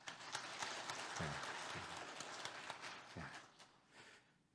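A church congregation applauds to bless a young accompanist, a dense patter of many hands clapping throughout at moderate distance, tapering off toward the end.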